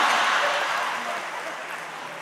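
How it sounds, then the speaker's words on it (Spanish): Applause from a live audience for a contestant at a comedy show in a large arena: a dense, steady wash of clapping that starts loud and gradually fades over a couple of seconds. "recibe los aplausos del público"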